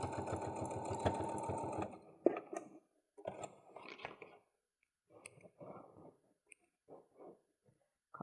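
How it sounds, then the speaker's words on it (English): A sewing machine back stitching a seam on a small makeup bag, a fast steady whirring run for about two seconds, followed by short bursts of stitching and fabric handling clicks. "Maybe back stitch over the actual seam itself"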